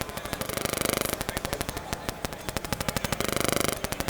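A SOMA Pulsar 23 drum machine triggered by touching its patch points with the body, firing rapid, machine-gun-like bursts of sharp hits in fast repeating rolls with brief gaps, loud and close with no talking.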